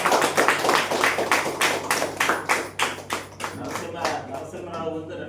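An audience at a rice bran oil promotional talk claps together in a steady rhythmic beat, roughly two sharp, close claps per second over a low hum, the claps thinning and softening toward the end.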